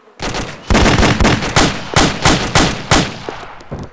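Gunshots in DayZ, a loud sequence of about seven sharp blasts fired at uneven intervals, each ringing out briefly before the next.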